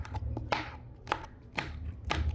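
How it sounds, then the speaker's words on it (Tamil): Okra being chopped into small pieces on a cutting board, a series of sharp knife taps in an uneven rhythm, close and fairly loud. "இப்படி தான் வெண்டைக்காயை வந்து சின்ன சின்ன கட் பண்ணி இது எங்களோட ஸ்டைலில் வைக்க போகிறோம்."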